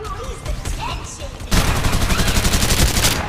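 Rapid automatic gunfire in the Farlight 84 battle royale game, a dense continuous burst of shots starting abruptly and staying loud, preceded by quieter game effects and chatter.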